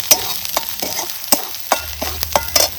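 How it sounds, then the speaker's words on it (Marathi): Turmeric roasts in masala in a pan for coriander bhaji, with a soft sizzle under repeated sharp scrapes and taps of a spoon stirring against the pan. "आता ही हळद सुद्धा आपल्याला मसाल्यात चांगली अशी भाजून घ्यायची"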